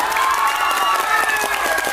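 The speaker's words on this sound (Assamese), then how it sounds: "জোৰছে হাত চাপৰি এটা লাগে" An audience at a comedy show claps loudly and continuously, with cheering and shouts mixed into the dense applause.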